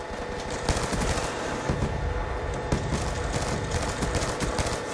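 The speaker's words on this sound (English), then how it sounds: "that was bad shooting" Rapid automatic gunfire from a Black Ops 2 multiplayer match, loud and sustained with dense overlapping bursts and a busy background of in-game noise.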